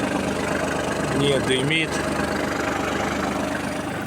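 Kubota KL25 25 hp Japanese mini tractor engine idling smoothly, a steady even drone throughout with someone speaking briefly over it.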